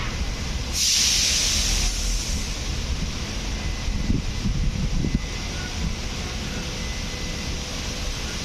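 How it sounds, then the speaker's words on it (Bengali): Rain driven by strong wind from Cyclone Remal over the Shitalakshya river at Narayanganj, a continuous broad hiss and rush with a brief louder gust, steady and enveloping. "বৃষ্টি হচ্ছে বাতাসের সাথে বৃষ্টি মাঝে মধ্যে কমছে মাঝে মধ্যে বাড়ছে কিন্তু বাতাস বয়ে চলেছে"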